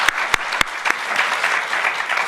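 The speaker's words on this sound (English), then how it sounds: "Let's give one more round of applause to Lee, Barbara, all of our panelists" Audience applause at the close of a political panel discussion, a steady wash of clapping with a few sharp, loud claps near the start, continuing without voices.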